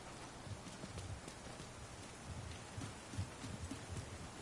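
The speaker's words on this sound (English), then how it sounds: "Damn, it's raining again." Soft, even rainfall in The Division 2 patters continuously, with occasional low thumps scattered through the steady hiss.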